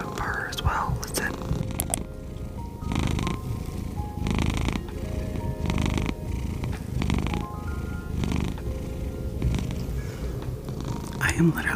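A cat purrs close up in a soft, rhythmic rumble, each breath cycle pulsing regularly for several seconds.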